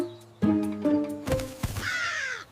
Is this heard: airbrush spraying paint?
no